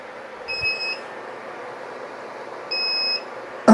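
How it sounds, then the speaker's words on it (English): Two separate high-pitched electronic beeps from a 12 V power inverter's low voltage warning while a LiFePO4 battery runs heaters at high current, each a steady tone about half a second long, over a quiet background hum. "It's starting, the inverter's starting to beep because we have a low voltage warning"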